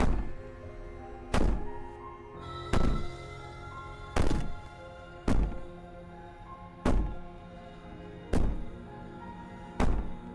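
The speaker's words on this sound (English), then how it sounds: "Maybe the banging and wailing will stop if you just don't pay attention to it." Heavy door banging in the video game Slay the Princess: eight loud, evenly spaced thuds roughly every 1.4 seconds, each a sharp impact with a short decay, over a steady low ambient drone.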